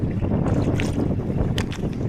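Strong wind buffets the microphone with a constant, low rumbling roar, steady throughout with no voices, at a mussel-gathering spot.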